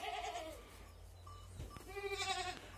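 Goats bleat in a small farm herd, several wavering calls near at hand, one early and a louder overlapping pair toward the end, with a low rumble and quiet stretches in between.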